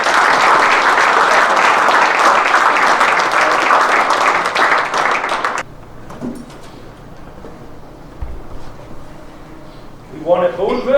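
Banquet audience at a horse pulling event gives a loud round of applause for about five seconds, then it cuts off, leaving quiet room noise, a few soft knocks and brief voices.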